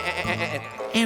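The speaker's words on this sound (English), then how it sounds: "the sheep were trying to get their central heating to work" Cartoon sheep let out a couple of short, loud, wavering bleats, close and in quick succession.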